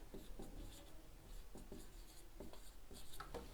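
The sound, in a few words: writing declaration on board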